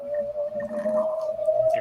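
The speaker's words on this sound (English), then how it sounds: "UFO sound effects." UFO sound effect: a steady, eerie tone that holds one pitch with a slight wavering, over a soft rumbling bed, moderately quiet and continuous for under two seconds.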